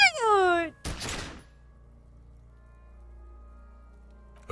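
A single loud gunshot from the video game Disco Elysium, a sharp burst right after a brief high voice-like wail, then fading into a low, quiet hum.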